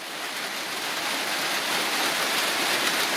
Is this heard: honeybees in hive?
no